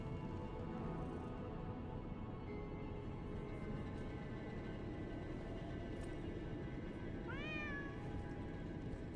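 A cat meows once in the Lies of P video game, a short rising-falling cry near the end over a steady, dense background drone of game ambience.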